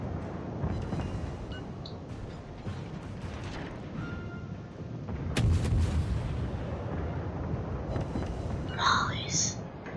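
Warship guns fire in the naval combat video game War of War Ship, heavy booming shots rolling under continuous battle noise and a voice talking over it, with a louder burst midway.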